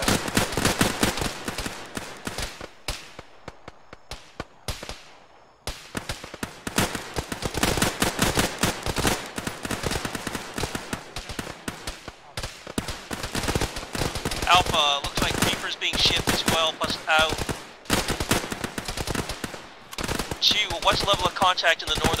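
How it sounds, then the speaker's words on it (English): Video-game combat: a BRDM armoured vehicle's machine gun fires in dense, rapid bursts, loud and close, with overlapping shots from other guns and brief lulls. "What was the status of that BRDM? Still firing somewhere southwest."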